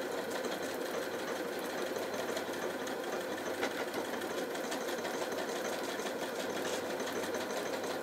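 A Janome Atelier 9 sewing machine stitches continuously, a steady faint mechanical hum with a fast rattling pulse that carries on unbroken throughout.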